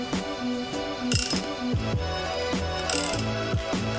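A wrench ratcheting as it tightens a press on a Jeep Cherokee XJ axle U-joint, giving repeated clicking strokes with two louder metallic bursts. Music plays underneath.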